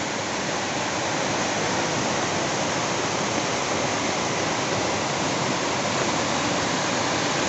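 Strong river current rushing at Serra Azul near Palmares, Pernambuco, a loud, steady broadband roar of churning water that runs continuously without pause or change.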